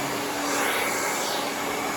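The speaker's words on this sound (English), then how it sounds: "And I quickly put the blow dryer on it." Handheld blow dryer running steadily while coarse curly hair is styled, a continuous close whooshing hum with an airy high hiss and no pauses.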